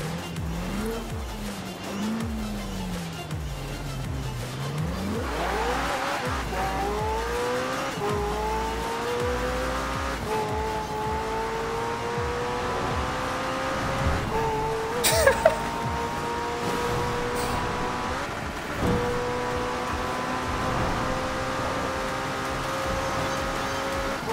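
Car engine in the racing game Forza Horizon 4, revving and rising in pitch through gear changes with tire squeal, continuous and loud throughout.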